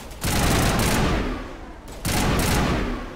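Assault rifle fire in the video game Mass Effect, loud sustained bursts of rapid automatic shots in two long volleys separated by a short lull, close and dense.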